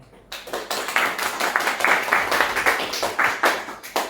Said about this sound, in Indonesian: Tepuk tangan dulu untuk Ezekiel.